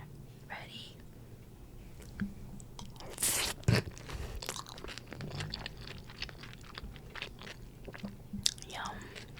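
Someone bites and chews crunchy food topped with cucumber, close up. Soft crunches and mouth sounds continue under quiet whispered talk, with a sharper bite near the middle.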